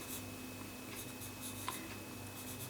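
Grey pastel pencil sketching on paper during a landscape composition drawing, heard as a soft, steady scratchy rasp of the pencil tip moving continuously across the sheet, close and quiet, with no talking.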